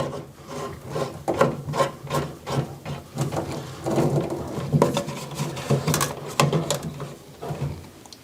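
A washing machine water hose is screwed on by hand, giving repeated short scraping and rubbing twists in an uneven rhythm, close and moderately loud.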